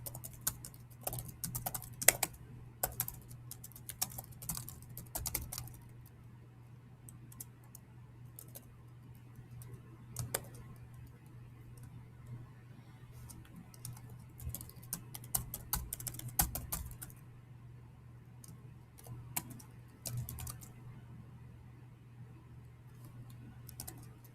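Computer keyboard typing code for a programming lecture, quick irregular bursts of light key clicks with pauses between, close and fairly quiet over a low steady hum.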